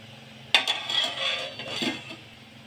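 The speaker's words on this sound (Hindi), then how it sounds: "5 मिनट के लिए ढक के रख देंगे।" A metal lid goes onto a cooking pan of masala with a sharp clank, followed by a few softer clinks and scrapes as it settles, close by.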